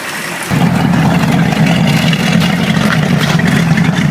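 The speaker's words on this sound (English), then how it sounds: "Car runs with basically zero vibration." An old car engine kicks in and idles smoothly, a steady, close, loud low rumble with an even, fast pulsing that holds unchanged to the end.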